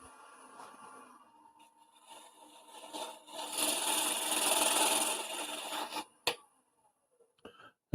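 A wooden offset handle is sanded on a spinning woodturning lathe, a soft rasping rub that builds to a louder, sustained scrape before stopping abruptly, followed by a few faint clicks.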